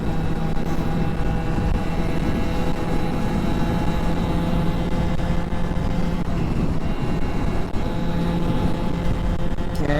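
A Zuma scooter fitted with an Athena 70cc big bore kit riding along, its small engine droning loud and steady for the whole stretch with a constant buzzy tone and rushing wind, no talk.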